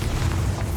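A Bombarda explosion spell going off in Hogwarts Legacy: a short, loud, booming blast with a deep rumbling tail, heard alone.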